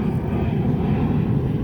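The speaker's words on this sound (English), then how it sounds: "I keep forgetting about the damn airplanes." Low, steady rumble of a fixed-wing airplane flying directly overhead, a sustained broadband engine drone with no pauses and no speech.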